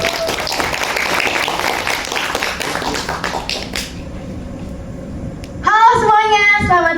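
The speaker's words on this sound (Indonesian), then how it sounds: "Maka dari itu diberikan tepuk tangan yang meriah untuk Jessie." A university class audience claps for a student presenter at a talk on mental health, with brisk clapping for a few seconds that thins out before a voice begins speaking.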